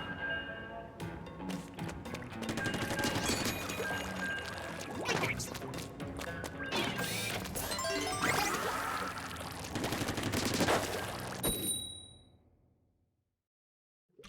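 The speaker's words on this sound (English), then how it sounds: "Let's try shooting people." Splatoon 3 ink weapons firing in dense, layered bursts of splashy, clanging game effects over a busy soundtrack, running steadily for about eleven seconds before fading out.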